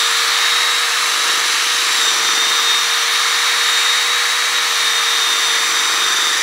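A steady, high-pitched whirring hum of a cordless drill spinning a quarter-inch wooden dowel against sandpaper, with a continuous scratchy sanding hiss, unbroken and close throughout.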